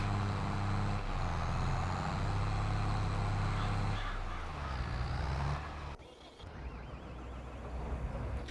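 A John Deere 7810 tractor engine in Farming Simulator 22 drones with a steady low rumble, easing and dropping off partway through before settling again.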